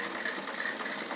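Sewing machine stitching the hem of a salwar, a steady fast mechanical whirr that runs continuously and close up without any break.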